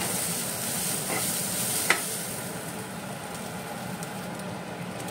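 Moong dal being stirred and dry-roasted in a pan until it changes colour, a steady soft scraping and light sizzle with one sharp clink partway through, close and alone.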